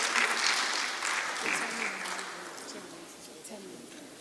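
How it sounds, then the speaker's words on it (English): An oral history conference audience applauds warmly. The clapping is strongest at the start and gradually thins and fades over about four seconds, with a hint of voices beneath it. "Let us give her a round of applause as she starts her presentation."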